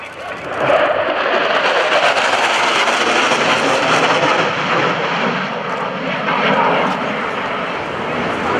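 US Navy Tailhook Legacy Flight of warbirds and jets passes at the 2012 NAS Oceana airshow, a loud sustained engine roar swelling and fading across the sky.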